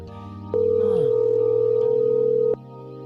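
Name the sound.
phone call ringing unanswered, forwarded to voicemail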